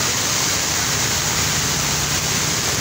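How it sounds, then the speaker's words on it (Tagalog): Heavy typhoon rain pours down in a dense, steady roar that fills the air without a break, loud and close, with no voices. "Madilim na po sa mga oras na ito dahil sa sobrang lakas ng buhos ng ulan"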